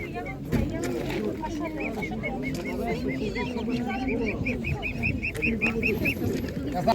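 Muscovy ducks at a busy animal market, with repeated short hissing calls rising over a steady crowd murmur and people talking nearby throughout.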